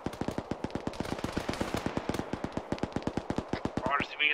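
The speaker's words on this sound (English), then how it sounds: "There's also a big gun shooting at it, or shooting from upslope west." A big gun in the military shooter ArmA 3 fires upslope in a long, steady stream of rapid shots, each a crisp crack, heard at a moderate distance and fairly quiet.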